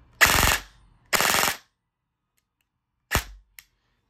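Two short bursts of rapid full-auto fire from an FN SCAR airsoft rifle, each about half a second long, followed by a brief shorter burst and a tiny pop, loud with no talking.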